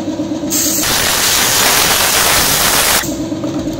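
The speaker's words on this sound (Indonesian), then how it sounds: "Semprot angin teman-teman." Compressed air blasts loudly in a single continuous hiss for about two and a half seconds while cleaning a diesel fuel filter, with a steadier background hiss before and after.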